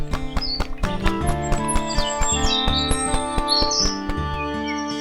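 A sparrow in a Hindi children's cartoon chirps in short, bright, high tweets over a busy rhythmic music track that carries clip-clop-like percussion, with no speech.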